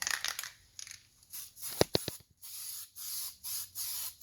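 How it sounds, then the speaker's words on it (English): Short hissing bursts from an aerosol can of gasket sealant sprayed onto a gasket during a Yamaha Banshee clutch install, a few quick sprays then a run of evenly spaced puffs, close up with no talking. "I like spraying it right on the gasket"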